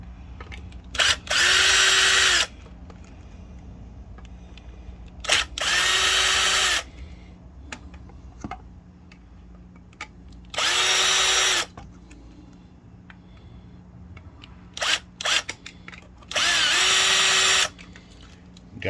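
A power screwdriver backs small screws out of a septic aerator during a rebuild, whining in four loud, close bursts of one to two seconds each, separated by quiet pauses with light handling clicks.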